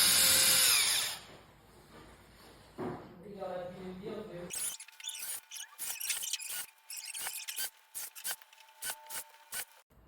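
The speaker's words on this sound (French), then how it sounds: "On va percer un premier trou au bout de l'anneau" A drill boring holes into a wooden ring, heard as close, scratchy bursts of drilling and rubbing in short repeated pulses after an opening stretch of quieter handling noise.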